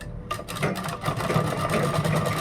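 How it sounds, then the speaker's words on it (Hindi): Sewing machine running steadily while stitching a kurta, a continuous close mechanical whirr with a fast repeating needle rhythm, starting after a brief quiet moment and holding at even loudness. "यहाँ पे हम इसकी सिलाई लगाएंगे इस तरह से"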